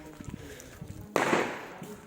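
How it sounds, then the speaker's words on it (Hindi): A Diwali firecracker bursts with a sudden sharp bang outdoors in a village, followed by a crackling, hissing tail that fades over about a second, after faint murmuring beforehand. "यहाँ भी फूट रहे हैं पटाखे।"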